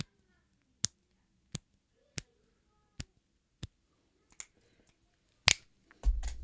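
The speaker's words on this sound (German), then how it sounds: "Wisst ihr, dass ich manchmal so schnippen kann?" Crisp single finger snaps made with the left hand ring out one at a time at an uneven pace, close and dry in a quiet room, ending with a louder snap and a brief rustle.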